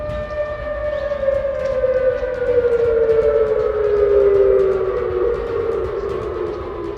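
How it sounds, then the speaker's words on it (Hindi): North Korean air raid siren wailing loud and sustained, its tone slowly sliding downward as it fades toward the end, with no voices. "इसे लेकर नॉर्थ कोरिया ने सुबह एयर रेड सायरन बजाया"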